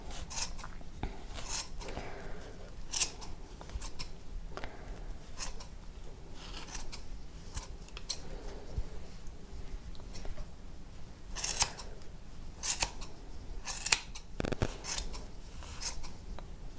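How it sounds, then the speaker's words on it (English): Repeated sharp snips of scissors cutting through yarn loops to make a pom pom, irregular and close, with quiet rustling between cuts. "get your nice sharp scissors and cut all your loops"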